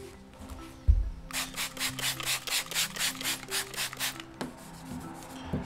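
A clay bar rubs back and forth over gritty, contaminated paint on a VW dune buggy, about a dozen close, steady rasping strokes in an even rhythm, with a low thump at the start.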